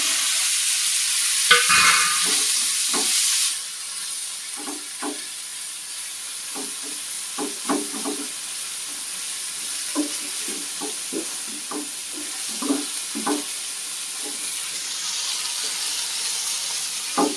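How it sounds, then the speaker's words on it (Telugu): Red ponnaganti greens fry in an oil tempering under a steady sizzle, while a spoon stirs them in quick, repeated scraping strokes close by. No one speaks. "బాగా పొడి పొడిగా వచ్చేదాకా ఫ్రై చేసుకోవాలి"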